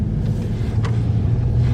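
Mercedes W213 E-Class on the road, heard from inside the cabin as a steady low engine and road rumble, with no talk over it.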